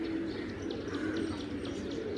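Pigeons kept in a breeder's loft coo in soft, low, repeated calls, close by and steady, with faint chirps over them and no talk.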